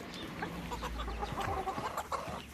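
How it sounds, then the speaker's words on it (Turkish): A rooster and hens clucking in a snowy backyard flock, steady overlapping clucks and soft calls close by with no talking. "Bakın burada bir horoz var."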